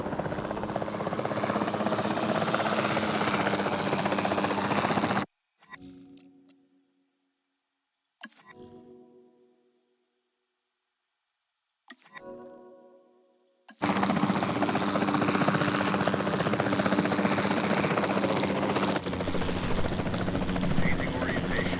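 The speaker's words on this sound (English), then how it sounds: "Then the sensible thing is to take a capture team helicopter." Capture team helicopter in Jurassic World Evolution 2, a steady loud rotor roar that cuts out after five seconds, leaving a few brief mechanical bursts and near-silence before the thrumming returns at full strength.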